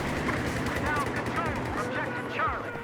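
Compact 45 pistol shots in the video game Battlefield 4 crack out in rapid bursts amid game effects, with someone talking over the action.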